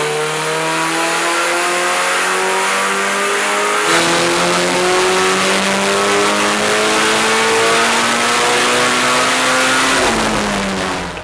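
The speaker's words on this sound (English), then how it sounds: "We did a before power run just as a compare last week with the old turbo" Toyota AE86 with a turbo conversion revving hard on a dyno power run, the engine climbing steadily and loudly through the revs with a brief dip midway, close and continuous, with no talk.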